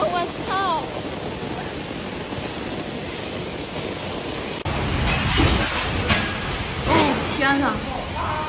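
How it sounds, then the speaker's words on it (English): Heavy rainstorm with thunder in Heilongjiang, a steady hiss of downpour throughout that grows louder and denser halfway through, with rumbling low booms and someone exclaiming over it. "The rainfall continues."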